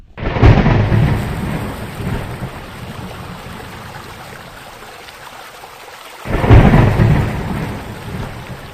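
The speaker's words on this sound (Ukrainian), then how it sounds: "шумові звуки це звуки природи, дощ, вітер, грім." Heavy rain pours steadily while loud thunder rumbles roll in twice, once at the start and again near the end.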